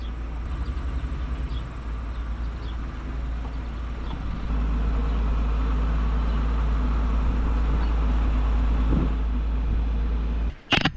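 Pickup trucks idle and drive off on a farm, a steady low engine rumble filling the scene, strengthening midway and ending with a sudden loud thump near the close.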